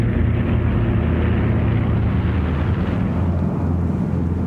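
Martin Mars giant flying boat, a water-bomber used for firefighting, with its propeller engines giving a steady, loud, low droning roar that holds throughout without pause.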